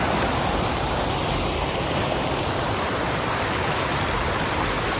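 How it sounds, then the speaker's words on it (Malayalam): Water rushes through stone channels at Ganga Maya park in Darjeeling, a steady, dense, close wash of flowing sound that stays even and unbroken throughout. "ഇതിലൂടെയൊക്കെയാണ് വെള്ളം വരുന്നത്."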